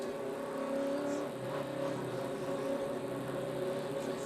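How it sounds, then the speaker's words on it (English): A 2012 NASCAR Nationwide Series race car warms its brakes and tires, giving a faint, steady engine drone with layered harmonic whine that rises and falls gently, heard from some distance. "He's warming up the brakes, warming up the tires."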